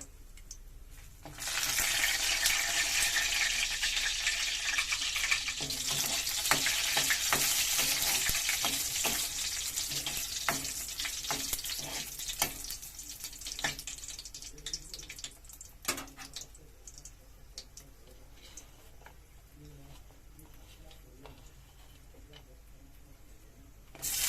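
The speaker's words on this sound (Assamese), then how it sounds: "তেলখিনি অকণমান গৰম হৈছে এতিয়া ইয়াতে দিছোঁ শুকান জলকীয়া তেজপাত" Dried chillies and bay leaves dropped into hot oil sizzle and spit up close, a loud burst of frying that crackles on and gradually settles, with occasional stirring clatter.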